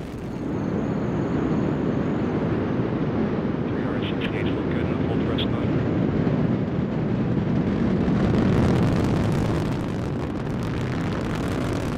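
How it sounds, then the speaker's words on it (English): The Delta IV Heavy rocket carrying NASA's Parker Solar Probe lifts off with a deep, continuous rumbling roar that fills the whole stretch, with a commentator speaking over it. "Liftoff of the mighty Delta IV Heavy rocket with NASA's Parker Solar Probe."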